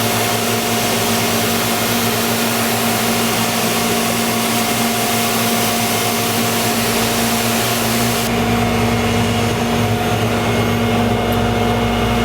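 An IMPACTS S270E 10.5-inch shot blast machine runs loud and constant while blasting a floor, its steady droning roar continuous throughout with no voices.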